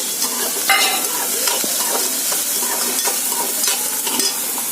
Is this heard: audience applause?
no